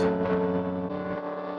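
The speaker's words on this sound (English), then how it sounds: "I put a little clipper on it. Distorts when you get past a certain volume level, some more distortion." A sustained, buzzing tone with a harsh, clipped edge, steady and fairly loud for under two seconds, with no voices.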